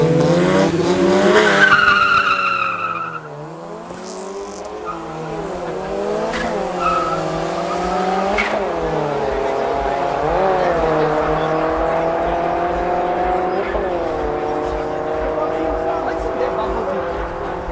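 Several street-racing cars, including a Capella, roar as they accelerate hard on a Johannesburg street, engines revving through rising gear changes with a brief tire squeal, loud and close, continuing steadily.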